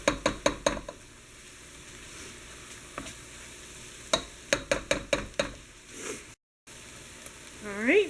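Flour roux cooking in a pan for chicken pot pie, with a spoon stirring it in bursts of quick scraping strokes over a steady low sizzle, close and fairly quiet, and a faint bit of voice near the end.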